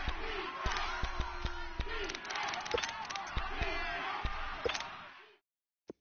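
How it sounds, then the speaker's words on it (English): Stadium crowd in a PS4 football video game roars steadily as fans rise before a third-and-short play, with sharp thumps and cheers throughout before cutting to silence, a single click at the end. "Here comes a big one as this crowd gets up making some noise."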